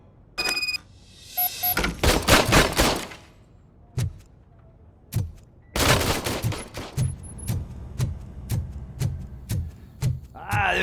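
An old service gun firing in RoboCop: Rogue City: a loud burst of shots, then a long run of single sharp reports spaced at steady intervals, with metallic clicks and thunks between them.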